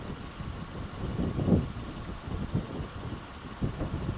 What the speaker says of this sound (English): It's real windy out here too.